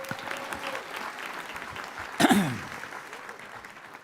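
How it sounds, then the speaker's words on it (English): Graduates and guests at a college's 50th commencement ceremony clap steadily in a large hall, a broad wash of applause with a brief louder burst of cheering midway before settling. "Give yourselves a round of applause."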